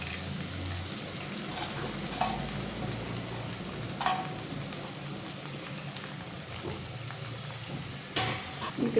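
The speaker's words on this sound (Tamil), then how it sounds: "இப்போ இதில் கொள்ளு சேர்த்துக்கலாம்." Horse gram sautés with onions in a pan, giving a steady close sizzle and crackle. Faint scraping stirs cut in now and then, and no one speaks.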